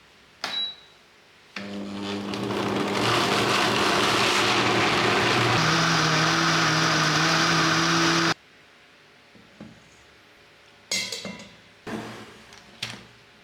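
A blender whirs loudly for about seven seconds, churning June plum with water, then cuts off abruptly, leaving a few faint clunks and scrapes afterward.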